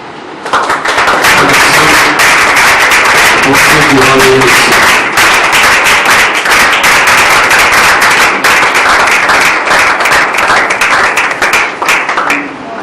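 A church congregation applauding, dense and loud clapping from a large crowd sustained evenly for over ten seconds, with faint voices underneath near the start.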